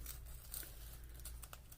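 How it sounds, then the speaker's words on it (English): Paper crumpled by hand while assembling a December journal page, giving brief soft crinkles and rustles, close and fairly quiet over a low steady background hum, with no talking. "Crumple this up just a little bit too,"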